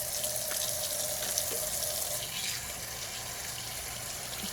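Tap water runs steadily into an empty ink bottle while rinsing it out, a close, continuous splashing gush that softens slightly toward the end.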